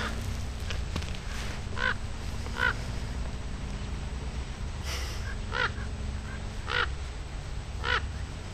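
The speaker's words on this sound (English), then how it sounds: "Got some crows out here flying behind me." Crows flying overhead outdoors on a warm winter day give a series of spaced, harsh caws, about seven or eight calls at moderate distance over steady background noise, with no talking.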